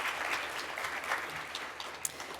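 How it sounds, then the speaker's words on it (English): A few audience members begin to clap at the CSUN Bull Ring event, a faint scattered patter of hands from a distance, thin and brief. "did I hear someone like start to clap?"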